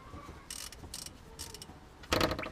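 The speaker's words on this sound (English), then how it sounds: "And oil filter wrench on it. Let's see if I can get this off." An oil filter wrench works a car oil filter loose on a 2004 Vauxhall Vectra C. Short bursts of scraping, gripping and ratcheting noise come close by, ending in a louder scrape. Nobody speaks.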